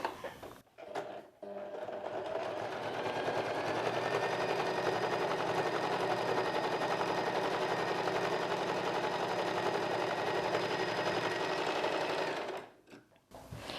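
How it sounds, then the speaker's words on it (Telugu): A sewing machine stitches two pieces of fabric together, running in one continuous, fast, rattling burst for about eleven seconds. It starts and stops with brief clicks and is close and clear. "రెండో పీస్ని ఇలా పైవైపునకి తీసుకొని పైన ఇంకొక కుట్టు వేసేసుకుందాము"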